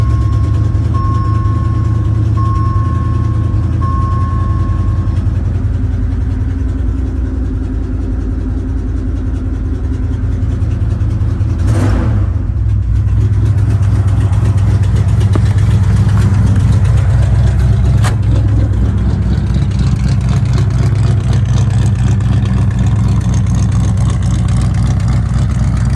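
A vehicle engine, cold-started and left idling, holds a steady low rumble that stays close and even throughout, with one brief clatter near the middle and no voices.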